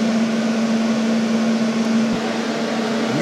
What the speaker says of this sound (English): I'll use that to do the welds with, TIG weld it